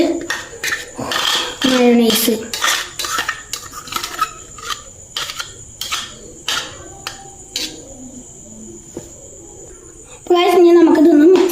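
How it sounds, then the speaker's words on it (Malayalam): Chicken filling being mixed with mayonnaise in a bowl, with repeated spoon scrapes and clinks in uneven bursts and a voice talking at times. "ഇനി നമുക്ക് ഇതിക്ക് മയോണൈസ് മയോണൈസ് മിക്സ് ചെയ്യാം"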